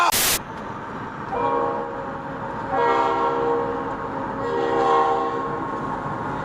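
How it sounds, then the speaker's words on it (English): A Reading and Northern ballast train led by an SD40-2 locomotive sounds its horn in two long, loud, chord-like blasts from fairly close, over a steady rumble of rolling rail cars. "This was a Reading and Northern ballast train making a shove movement to Port Clinton"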